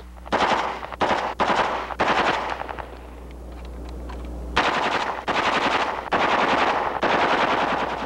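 Heckler & Koch machine gun on a stationary column mount, shown in a 1970s live-fire demonstration, fires several loud, rapid bursts at close range, pauses for about two seconds, then fires more long bursts with no talking.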